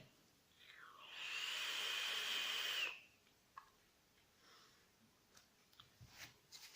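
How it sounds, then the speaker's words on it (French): A box mod e-cigarette with a dripper atomizer and coil gives a loud, steady vapour hiss for about two seconds, then faint clicks and small handling noises follow. "Belle production de vapeur avec un coil"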